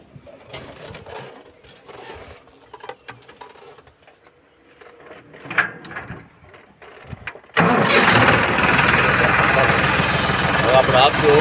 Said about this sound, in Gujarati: તો આપણે કરીશું ટ્રેક્ટર ચાલુ.